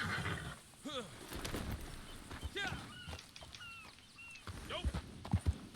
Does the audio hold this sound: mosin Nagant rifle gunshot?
no